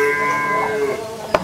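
A large dairy cow gives a single drawn-out moo, loud and close at first, fading as it ends, with a short knock near the close.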